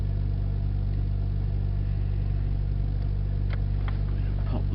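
Car engine runs steadily while warming up, a low, even hum with a constant droning tone, fairly quiet and near, with a few faint clicks toward the end.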